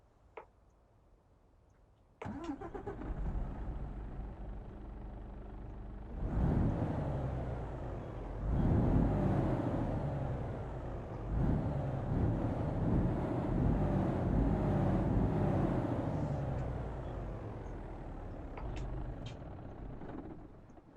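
A Mercedes Actros MP4 truck engine in Euro Truck Simulator 2 turns over and starts, muffled as heard from inside the cab, then rumbles steadily with a few swells and clicks.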